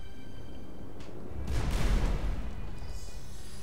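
Explosion in the wizard action game Magicka as a player blows himself up, a muffled low boom swelling briefly mid-clip over a steady game background.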